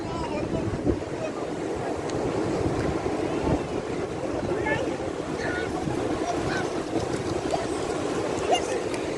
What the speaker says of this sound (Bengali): ওয়াও সমুদ্রের জোয়ার আসতেছে।